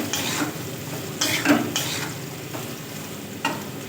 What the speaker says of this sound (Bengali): শুধু উচ্ছে চাক চাক করে ভেজে নিচ্ছি।